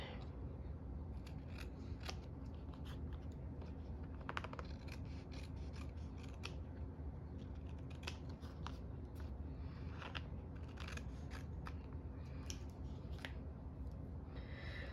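Scissors trimming paper or craft material, a run of close, repeated snipping and rustling cuts over a low steady background hum, no speech.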